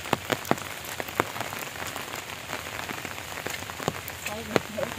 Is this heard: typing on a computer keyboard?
no